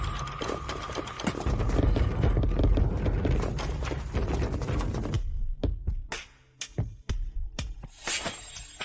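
Horse hooves clip-clop in a sharp, uneven series near the end, following a dense stretch of busy background sound.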